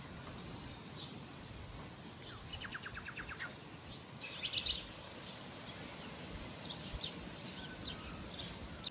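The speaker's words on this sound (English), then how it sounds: "The bird life around here is pretty special." Wild birds singing around a farm, heard as faint scattered chirps and a short trilling call over a steady outdoor hush, fairly distant and with no one talking.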